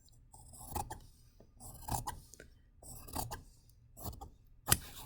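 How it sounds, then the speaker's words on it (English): Scissors trimming fabric seam allowances, a series of close, crisp rasping snips in short bursts at an uneven rhythm, with no talking. "this one, we're going to trim both of the seam allowances off at a half"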